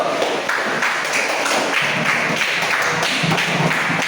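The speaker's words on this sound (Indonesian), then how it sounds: "Oke, tepuk tangan dulu" A class claps in a steady, brisk round of applause, close and fairly loud, with sharp individual hand claps and light thumps running through the whole stretch.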